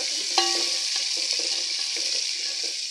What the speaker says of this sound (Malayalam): ഉലുവ പൊട്ടി കഴിഞ്ഞാൽ നമുക്ക് കരിവേപ്പില ഇടാം. കരിവേപ്പില ഇട്ട് അടുത്ത സവാളയാണ് ഇടുന്നത്.